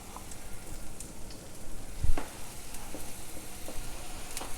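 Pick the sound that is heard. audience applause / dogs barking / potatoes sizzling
potatoes sizzling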